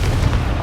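Confringo blasting spell explosion in the Hogwarts Legacy video game, a short loud rumbling boom with a dense low-end burst filling the whole moment.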